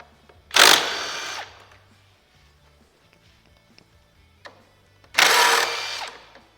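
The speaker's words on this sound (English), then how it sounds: "now we're going to take out the 4 10mm spoiler screws that Sonia talked about." A power tool, likely an impact driver or drill, backs out 10mm spoiler screws on a 2022 Corvette C8, sounding as two loud close bursts of whirring separated by a quiet pause.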